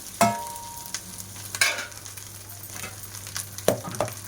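Rice being stir-fried with egg, vegetables and chicken in a pan, a low continuous sizzle punctuated by several loud spatula scrapes and tosses, close up with no speech.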